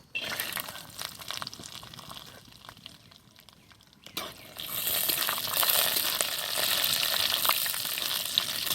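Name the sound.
peanuts frying in hot oil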